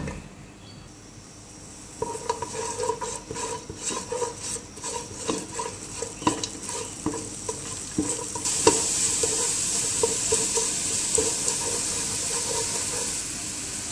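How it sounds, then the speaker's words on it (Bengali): Chopped garlic hits hot mustard oil in a saucepan with a sudden steady sizzle, stirred with scraping strokes; the frying grows louder and brighter partway through and carries on alone without talk. "এক চামচ রসুন কুচি দেব।"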